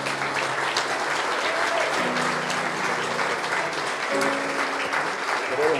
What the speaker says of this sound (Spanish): Parece que metió un gol, che, tanto aplauden.